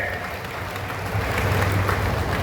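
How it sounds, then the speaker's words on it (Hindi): A crowd applauds at an outdoor political rally in Panna addressed by the chief minister, a steady wash of clapping with a low hum running underneath that swells slightly toward the end. "जोरदार ताली बजा के अभिनंदन करें।"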